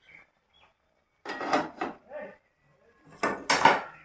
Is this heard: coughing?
no